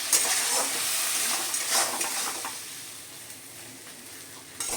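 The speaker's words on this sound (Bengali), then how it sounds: "ভালো করে নেড়ে চেড়ে এইভাবে মশলাটা কষে নেব" Spice paste of turmeric and salt being stirred and fried in a pan for a potato and catfish curry, a steady sizzle with scraping strokes, louder early then easing off, no talking.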